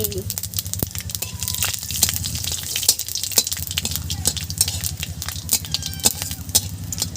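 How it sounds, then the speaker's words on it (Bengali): Dried red chillies and panch phoron spices dropped into hot oil for a Bengali fish curry, crackling and spitting densely and loudly without pause, close up over a low hum. "শুকনো লঙ্কা, পাঁচ ফোড়নে দিচ্ছি।"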